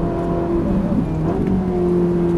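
A Ferrari F458 accelerating on the Le Luc race track makes a loud steady engine drone heard from inside the car, with the pitch of its tone shifting as the revs rise and fall, no speech.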